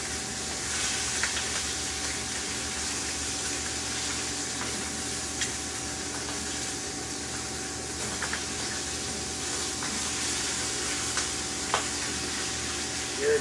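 A lamb shank fries in very hot grease in a pan over a fire, giving a loud, steady sizzle and crackle throughout, with occasional sharper pops and no talk.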